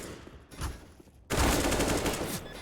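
Gunfire in a Counter-Strike: Global Offensive match erupts as a loud, sustained burst of rapid shots after a quieter stretch with a few distant pops, filling the remaining seconds.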